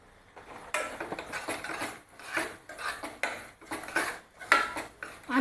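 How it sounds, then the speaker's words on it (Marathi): Ground masala paste for egg curry being sautéed in a pan, with repeated scraping and clattering of a spoon against the metal in uneven bursts over a soft sizzle. "आणखी 1-2 मिनटं परतून घेऊया."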